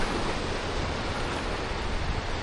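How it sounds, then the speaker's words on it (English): Water near the Krka Waterfall in Croatia glides over rock in a continuous, even rush. The broad watery hiss is moderately loud and uninterrupted, with no talking. "the power of the water here as it glides over the rock beneath"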